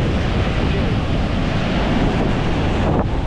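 Heavy storm surge waves pound a shoreline with a constant loud roar, buffeted throughout by strong wind on the microphone and no break in the din.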